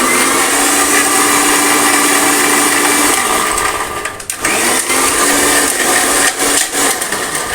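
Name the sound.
mixer grinder grinding tamarind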